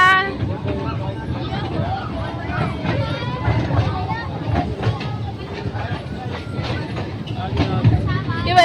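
A train rolls past without stopping during a family picnic near Kalaburagi: a loud, steady rumble with rhythmic wheel clatter that lasts throughout, while a crowd of people chatters over it.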